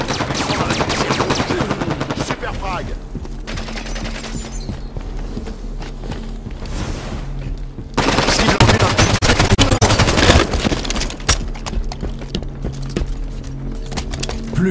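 Rapid automatic gunfire and bursts of shots in the Halo 5 multiplayer video game, loud and dense throughout, with a heavier flurry of fire midway.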